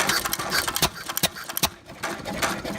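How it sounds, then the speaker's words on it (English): An antique hit-and-miss engine runs at an engine show, firing sharp, uneven pops with gaps between them over a softer mechanical clatter, close and loud. "That's why it's called a hit and miss engine"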